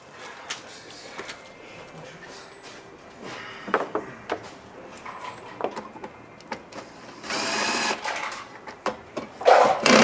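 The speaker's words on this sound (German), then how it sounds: "ich schaue jetzt mal hier diese beiden Schrauben losmachen" Two bolts are loosened during starter replacement on a Subaru Legacy, heard as a close series of sharp ratcheting clicks and metallic taps, then a longer grinding rasp near the end.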